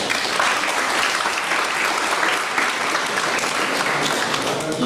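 Strong, sustained applause from a lecture audience after a doctor's presentation, dense and even clapping throughout with no talking over it.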